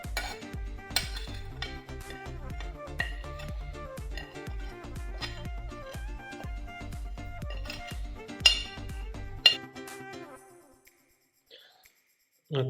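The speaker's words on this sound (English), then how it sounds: "mix all of our dry ingredients together in a cup" Salt, paprika and seven spices mixed in a small bowl or cup: steady, rapid spoon clinks and taps against the dish, fairly close and moderately loud, for about ten seconds, then a brief near-silence and one last knock.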